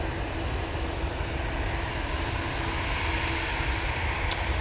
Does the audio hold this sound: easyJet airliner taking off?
yes